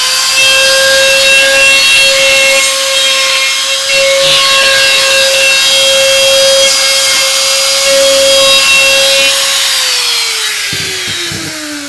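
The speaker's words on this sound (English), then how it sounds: "Use a spiral cut so as it cuts down, much less chipping and problems." A spiral router bit trims edge banding on a panel, giving a loud, steady high-pitched motor whine with a strong tonal pitch that holds for about ten seconds, then drops and winds down near the end.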